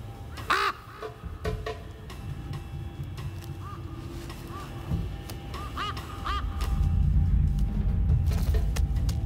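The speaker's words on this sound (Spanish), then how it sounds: "Los cuervos siguen patrullando el cielo." Crows cawing over the Sahara desert, several harsh repeated caws at varying distances standing out above a steady low wind-like rumble that grows louder toward the end.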